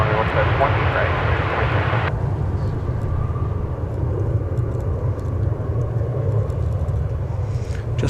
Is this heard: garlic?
no